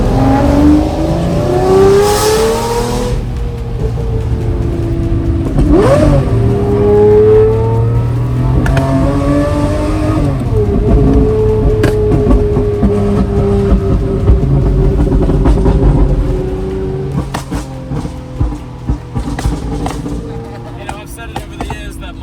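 Race cars at Laguna Seca during Monterey Car Week pass close by with loud, rising and falling engine revs and gear changes, several passes overlapping before the roar fades into scattered quieter bursts.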